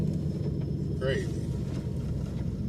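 Steady low road rumble of heavy traffic on Highway 403 in Pennsylvania during the first snowstorm, heard from inside a moving car, with a brief tonal whine around the middle and a voice talking over it.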